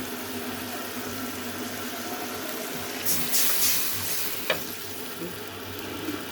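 Spices with turmeric frying in a pan, a steady sizzle throughout, with a brief brighter hiss and a light clink partway through.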